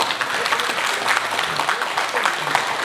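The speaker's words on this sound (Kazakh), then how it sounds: "Не деген шапалақ, мына күшті шапалақ қой." Strong, dense applause from a crowd at a wedding celebration, steady and close throughout, with faint voices beneath the clapping.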